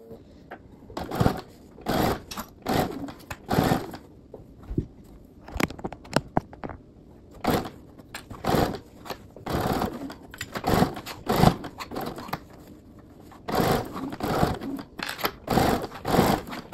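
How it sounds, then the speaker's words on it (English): A sewing machine bastes fabric with a quarter-inch seam allowance, running in short stop-and-start bursts of rapid stitching interspersed with pauses and fabric handling, close and moderately loud. "So I'm going to baste with a 1/4-inch seam allowance all the way around."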